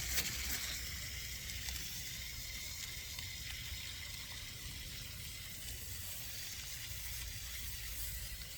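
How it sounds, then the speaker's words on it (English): Water pours steadily through the soil of a freshly repotted raft-style juniper bonsai and runs off, making a continuous close hiss and trickle with no pauses. "what we're looking for is this water that's running off to run off clear"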